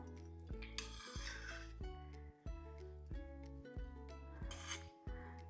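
Bagara rice gets mixed in a pot with a spoon, producing soft scraping and rubbing strokes against metal in an uneven rhythm over a steady tonal background hum, close and fairly quiet.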